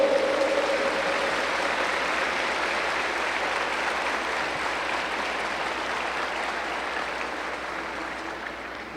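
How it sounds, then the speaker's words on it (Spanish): A church congregation gives sustained applause, a dense, steady roar of many hands clapping that slowly fades toward the end, with a brief voice at the start. "Den un aplauso a Jesús"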